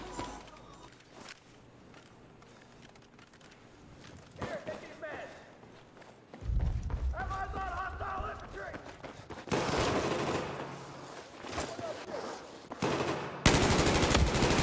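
Bursts of automatic machine gun fire from an M60 in an online shooter game, coming in loud rapid stretches with quieter gaps between them, while players talk over the gunfire.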